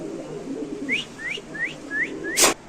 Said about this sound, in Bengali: কবুতর ডাকটা যদি একটু দেখাই দিই আমরা আপনাদের